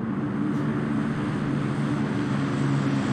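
A propeller airplane engine drones steadily overhead in the PUBG video game, a loud, continuous low hum holding at even volume with no talk.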